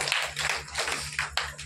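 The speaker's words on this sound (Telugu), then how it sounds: "చప్పట్లు కొట్టండి" A congregation at a church gathering claps hands in a steady, brisk rhythm, many hands together at moderate loudness.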